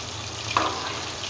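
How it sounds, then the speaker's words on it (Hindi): Chicken wings deep-frying in oil give a soft, steady sizzle with a brief brighter crackle midway, faint and close, with no talking. "ऑयल में डालने के बाद इसको मैं 1 मिनट के लिए ऐसे ही फ्राई होने दूंगी।"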